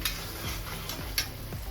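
Homemade ginger garlic paste frying in a pan for pav bhaji, giving a steady low sizzle with a few soft scraping stirs and light ticks, close up and without any talk.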